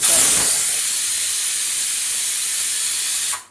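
A pressure cooker on the stove, cooking chickpeas, lets out a loud, steady hiss of escaping steam that holds evenly for about three seconds before cutting off abruptly.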